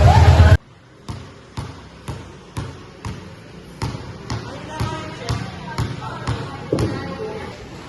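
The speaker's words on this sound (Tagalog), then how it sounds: "A dribbling characterized by hard, low dribbles for driving or coming from the court of the opposing team" A basketball dribbled in hard, low bounces on a court, about a dozen sharp thumps in a quick, steady rhythm after a brief burst of other sound, close and loud.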